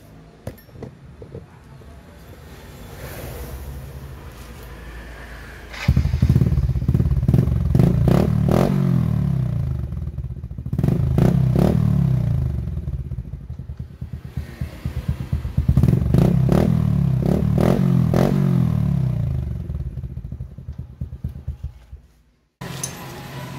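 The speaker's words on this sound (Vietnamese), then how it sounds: "Bây giờ mình sẽ đề máy cho bạn nghe thử cái tiếng bô nó là sao ha." A motorcycle with a modified, larger-outlet exhaust pipe idles quietly at first, then barks into loud, crackling bursts of revving in three surges, close by.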